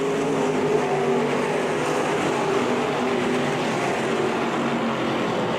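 Street stock race cars at I-96 Speedway run single file down the back straightaway into turn three, a steady, continuous engine roar from several cars at moderate distance with no talk over it.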